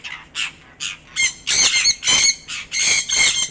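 A zebra dove coos in a series of short, rhythmic trilling bursts, about eight in a row, close and clear with no talking.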